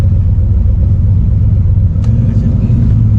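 The engine of the War Admiral street car rumbles loudly and steadily at close range, a deep continuous idle with a brief sharp click near the end.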